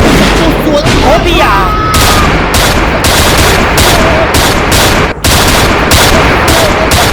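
Gunfire in a Jamaican short-film shootout, a dense, loud barrage of rapid shots and bursts filling the whole stretch, with people shouting over it.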